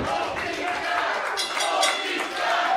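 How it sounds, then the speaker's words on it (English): Crowd noise at a live pro wrestling event, a steady, loud wash of cheering and shouting voices with bright clinking through it, sustained for the whole clip. "now round of applause for Westfield"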